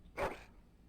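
A single short dog bark from a noble hound in the Dragon Age: Origins video game, one brief burst that stops abruptly, then quiet.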